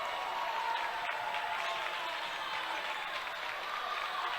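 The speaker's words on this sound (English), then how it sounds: "their crowd right below us on this near side comes to life" Stadium crowd cheering at a college sports game, a broad, distant roar of many voices that stays steady and fairly faint throughout, with no other sound standing out.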